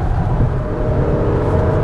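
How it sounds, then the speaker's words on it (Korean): A Toyota Crown 2.5 hybrid on the move gives a steady low transmission hum and whir mixed with road rumble inside the cabin, continuous and even throughout. "이건 변속기 소리네요."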